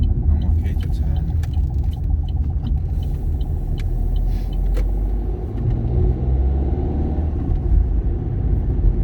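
A car approaches along a road near the Wigston driving test centre on Cambridge Road, a steady low engine and tyre rumble heard from inside a vehicle, holding constant throughout.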